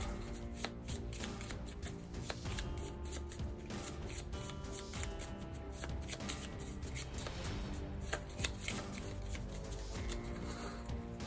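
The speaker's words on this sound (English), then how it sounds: "I'm gonna have to shuffle my deck" A deck of cards for the Marvel Champions card game being riffled and shuffled up close, a steady papery rustle with crisp flicks running the whole time, no talking.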